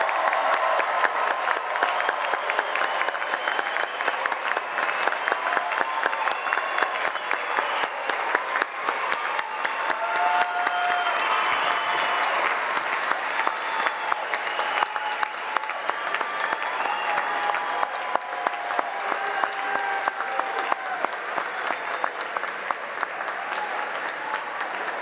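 An audience at the Millersville University 2017 graduate commencement applauds the graduates, a sustained, dense roar of clapping that carries evenly for about twenty-five seconds with no talk over it.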